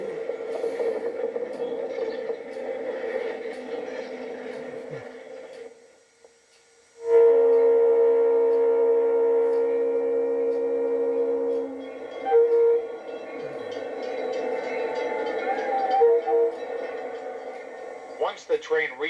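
The Roaring Camp steam train runs through the forest, heard as a steady rolling drone with sustained tonal, whistle-like bands. The sound drops away briefly near the middle and then returns, loud and continuous.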